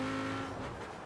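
A race car in Forza Horizon 4 street racing in winter roars past close by, a loud engine drone that fades briefly away.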